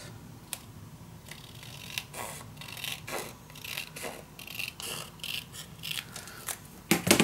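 Scissors cutting a green paper shape for a scrapbook mini album, a series of crisp snips and small paper crunches at an uneven pace, close and quiet, with no talking.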